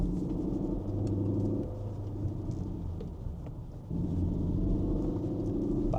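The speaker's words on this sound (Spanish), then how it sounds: "Patina las ruedas, ¿eh?" CUPRA Leon driven on a twisting road with its wheels slipping, a steady heavy rumble of engine and tyres heard from inside, dipping briefly midway before resuming at full strength.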